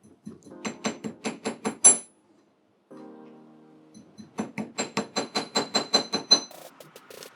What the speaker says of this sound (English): just gonna keep hammering to make this flat